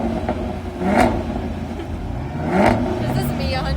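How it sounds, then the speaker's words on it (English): A car engine revs during a rev battle, with two sharp, loud surges that rise and fall about a second and a half apart over a continuous engine drone and background crowd noise. "we got a rev battle here."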